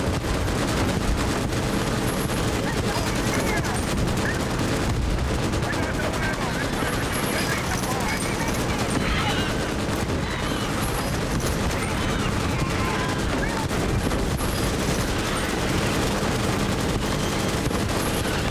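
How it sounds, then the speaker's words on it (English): Two machine guns fire in a video game, a loud, continuous barrage of rapid shots with explosions mixed in, running without pause under what sounds like talking. "Two machine guns. I love it."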